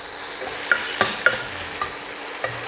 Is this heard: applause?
no